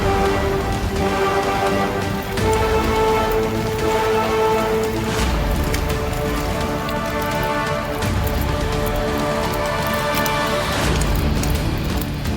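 Heavy monsoon rain pours down steadily and loudly during a red-alert deluge, a dense continuous hiss of drops striking surfaces with no break across the whole stretch.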